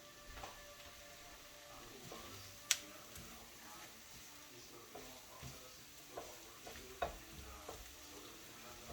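Eggs are stirred and mixed as they cook in a frying pan. Quiet, sporadic scrapes and clicks of the utensil sound against a faint sizzle, with one sharper tap partway through.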